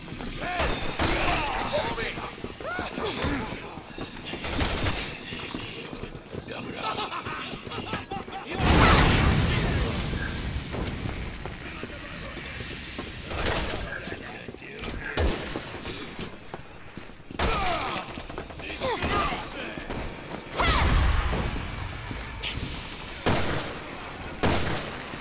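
Gunfire in the video game Resident Evil 6, with a Magnum among the weapons, loud repeated shots and heavy booms over game noise, with players talking over the action.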